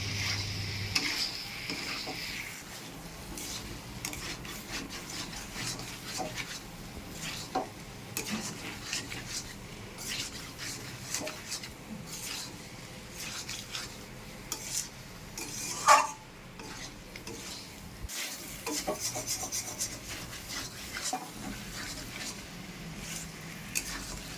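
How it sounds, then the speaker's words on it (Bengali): Fried potatoes and prawns are stirred into a spice masala in a pan, a soft continuous scraping and mixing with faint clinks of the utensil against the pot, one sharper knock near the end, no talking. "এবার ভেজে রাখা আলুগুলো আর চিংড়ি মাছ দিয়ে দেবো মশলার সঙ্গে সব কিছু ভালো করে মিশিয়ে নেবো"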